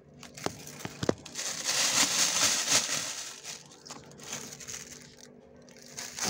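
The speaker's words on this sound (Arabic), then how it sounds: "وافضي الكيس من الهواء واربطه" A plastic bag filled with homemade luncheon meat mixture is squeezed of air and tied, giving close crinkling and crumpling plastic rustles, a few sharp crunchy snaps, then softer rubbing.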